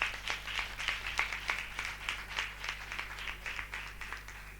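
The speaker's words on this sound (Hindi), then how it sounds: "एक बार यीशु लिए ताली बजा देंगे" A church audience claps for Jesus, a quick, steady run of hand claps filling the room at a moderate, slightly distant level.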